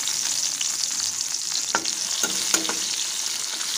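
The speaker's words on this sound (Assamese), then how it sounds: "কাজু বাদামখিনি ভাজি ল'ম মই।" Cashew nuts fry in ghee in a wok, giving a steady bubbling sizzle broken by a few sharp stirring scrapes.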